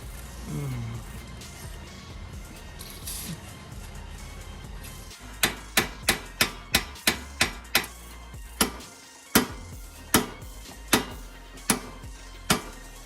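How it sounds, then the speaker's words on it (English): Heavy metal-on-metal hammer blows on a Ford EcoBoost car's suspension ring out in a steady, forceful series, about one strike every half second, over a low background hum. "it took some very aggressive hammering to get that off"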